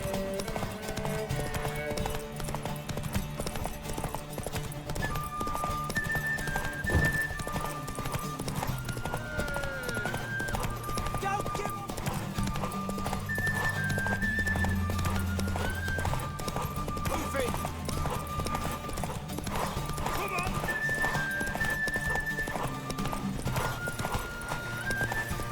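Horse hooves clip-clop in The Witcher 3 video game, a steady rhythmic beat under background music, with a character speaking over it.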